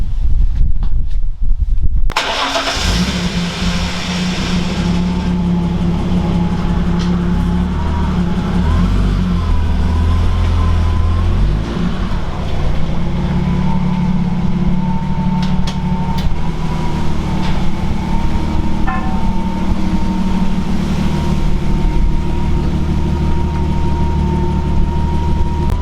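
A VH Commodore fitted with an RB30 turbo engine drives steadily, its low engine drone and road rumble holding at an even, loud level after a brief burst at the start, with no talking.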